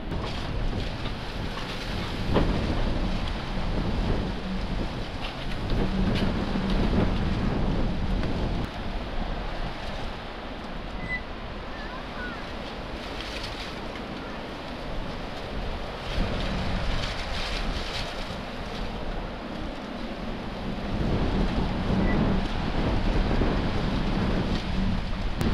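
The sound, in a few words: strong wind at beach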